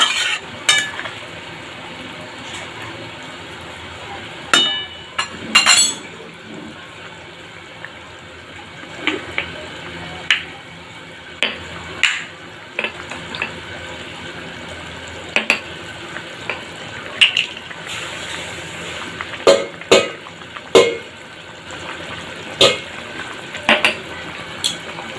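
Lentil vadas are dropped into a simmering curry gravy and stirred, with a soft bubbling bed broken by scattered scrapes and knocks of a spoon against the pot.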